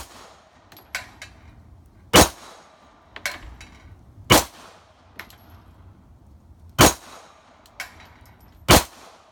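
Gunshots ring off a steel flag target in a series of sharp, loud impacts, about five distinct cracks spread irregularly, each with a bright metallic clang, with fainter pops in between over a quiet outdoor background.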